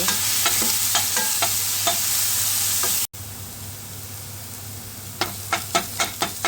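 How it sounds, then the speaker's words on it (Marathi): Two chopped onions sauté in a pan for a drumstick sabzi, with a continuous close sizzle and rhythmic scraping strokes of stirring, briefly cut out midway and then resuming with a quicker run of strokes. "कट केलेले 2 कांदे, कांदा परतून घ्या थोडा गुलाबी रंगाचा येईपर्यंत."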